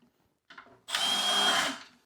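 A power drill driving screws to fix corner brackets onto a cabinet counter, heard as a short lead-in whir followed by a single sustained, loud run of about a second that then winds down, with no talk.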